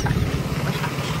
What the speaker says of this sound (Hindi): बैकग्राउंड रे ट्रैक्टर टा जाई आम कथाबार्ता डिस्टर्ब करछि